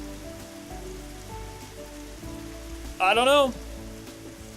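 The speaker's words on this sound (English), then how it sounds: "Now we're actually following the rain." Rain falling in the video game Dig or Die, a steady soft wash of drops on surfaces running throughout, with a brief louder tonal game effect near the end and a voice speaking quietly over it.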